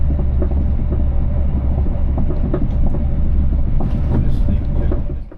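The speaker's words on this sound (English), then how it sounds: "we will run non-stop to the capital along the Chiltern Main Line, reaching a maximum speed of 100 miles per hour." A Chiltern intercity train runs at speed along the Chiltern Main Line toward London, heard from inside as a steady loud low rumble with faint rhythmic clicks from the track.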